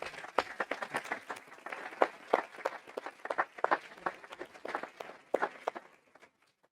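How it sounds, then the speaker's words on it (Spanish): A lecture audience gives a round of applause as a tribute during a talk on the sinking of the ship Sirio, with dense, fairly close clapping that tapers off and fades out at the end. "agradeceré un aplauso porque están aquí vivos"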